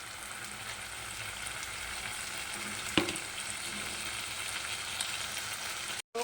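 Curry leaves, tomato and onion sizzle steadily in hot oil for snail gravy, a continuous low frying hiss with one sharp spoon scrape midway and no voices.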